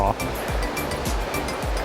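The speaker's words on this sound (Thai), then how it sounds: "มันก็จะเป็น ลำธารประมาณนี้นะครับลำธารทานน้ำตก" Stream flowing below Than Mayom Waterfall on Koh Chang, a steady close rush of running water with broad splashing hiss, continuous and fairly loud throughout.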